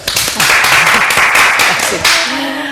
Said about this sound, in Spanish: molt bé, un aplauso, vaya.